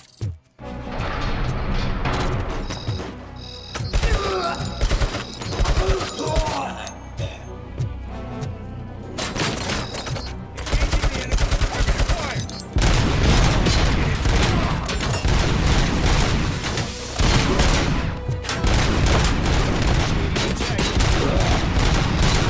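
Dense, continuous gunfire from the RoboCop: Rogue City video game, loud sustained bursts and impacts with crashing debris, building into heavier, nonstop firing partway through.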